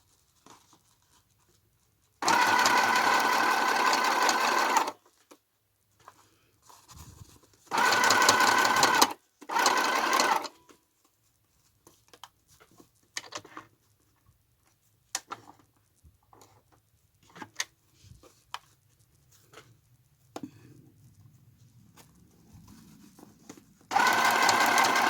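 A sewing machine runs a plain straight stitch to attach lace to paper for a shabby chic journal. It whirs in three close, steady bursts, with quiet handling and rustling between them.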